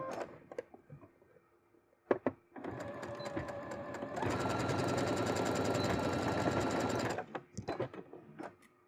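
A domestic sewing machine stitching a vertical seam inside a fold of bias binding on a bustier, starting in short bursts, then running steadily at a faster buzzing pace before stopping and giving a few final clicks, close up.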